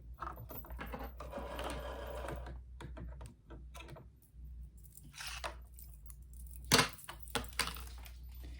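A sewing machine runs a zigzag stitch over floss in short, quiet bursts of rapid mechanical chatter, broken by brief pauses and a couple of sharper clicks.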